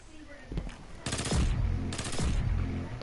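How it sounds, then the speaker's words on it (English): Graviton Lance firing in Destiny 2 sends out two quick, loud three-round bursts close up, each a rapid cluster of punchy shots with a ringing tail, over faint game ambience. "just listen to the burst fire very quickly in the weapon"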